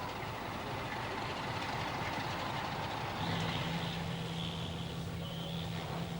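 A heavy freight train carrying 1,000 tons of coal rolls past with a steady rumbling clatter, a low hum joining midway and a faint high squeal above.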